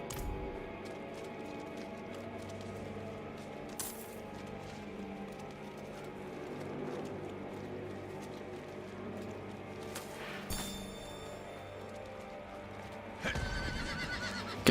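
A horse neighs in the action role-playing game Diablo 4, a whinny heard over soft clip-clop hoofbeats and a faint steady ambient background, moderately near, with no voices.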